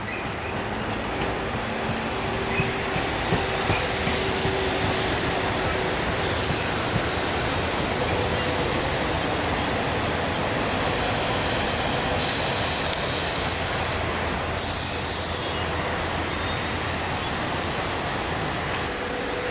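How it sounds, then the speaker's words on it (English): A train rumbles past nearby a small station, continuous and loud, with high metallic wheel squeals rising partway through. "That's the train we saw stopped at the last station,"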